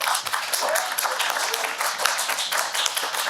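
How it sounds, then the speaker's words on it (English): A room audience at a student union election question time breaks into applause, a dense, steady wash of clapping held at an even level throughout. "round of applause, please"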